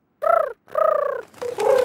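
A voice imitating a pigeon in a cartoon, three short hooting coos in quick succession, close and clear.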